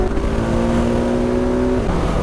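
A 2019 KTM 690 Enduro R single-cylinder motorcycle accelerating on a country lane, its engine note a steady loud drone that holds a rising pitch before dropping as it shifts gear near the end, with no talk.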